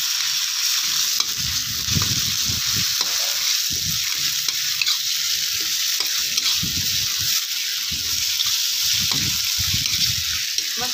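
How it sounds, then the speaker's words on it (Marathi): Ground chutney fries with onion for Maharashtrian pithla, giving a constant sizzle under repeated scraping stirs of a spoon in the pan, with no talking. "चटणी बी आपल्याला चांगली अशी भाजून घ्यायची."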